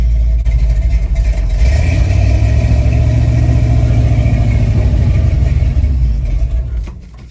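A slammed Chevrolet C10 pickup with a fuel delivery problem runs loud and close, its engine holding a steady rumbling note with a slight rise before cutting off abruptly at the end.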